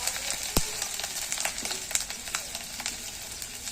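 Garlic, green chili and ginger fry in a pan for prawn malai curry, giving a soft, even sizzle with a sharp clatter early on and light stirring ticks throughout.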